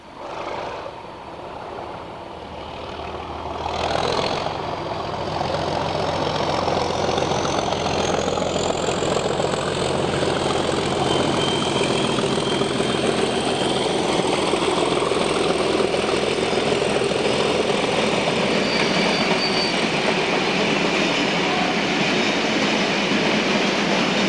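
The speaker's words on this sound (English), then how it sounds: "Heading for Lindsey Oil Refinery is 37802 with empty fuel tanks from Arpley" A Class 37 diesel locomotive, 37802, hauls a train of empty fuel tank wagons toward an oil refinery, a steady heavy engine drone with rolling wheel noise that swells as it draws near and stays loud.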